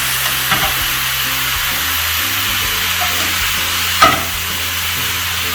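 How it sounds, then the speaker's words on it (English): Pasta goes into a hot pan with Brussels sprouts, a steady close sizzle and frying hiss broken by a few scraping stirs and a sharper clatter partway through. "So we're putting our pasta in."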